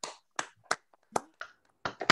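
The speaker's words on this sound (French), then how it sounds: "Je vous demande d'ouvrir vos micros pour un très chaleureux applaudissement à Giorgio." A handful of separate claps come through an open video call microphone, sparse and uneven, about eight sharp hits with silence between them.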